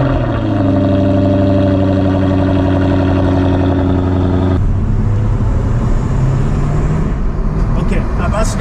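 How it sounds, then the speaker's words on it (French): A Jaguar F-Type V8 starts up with a loud, close roar that settles into a deep, steady idle rumble, continuous and strong throughout, with the engine note shifting to a rougher burble partway through. "je m'installe à bord de la F-Type V8, j'attache ma ceinture et je me prépare pour mon premier démarrage"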